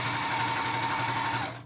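A sewing machine stitching a straight quilting seam, its fast even whirring hum running steadily up close before slowing to a stop.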